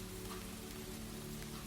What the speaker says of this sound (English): The rain fell steadily